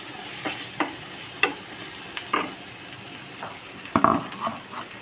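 Onions, green chilies and a ground tomato, ginger and garlic gravy sauté in a pan for aloo palak, a continuous close sizzle broken by repeated sharp scraping strokes of a spoon against the pan.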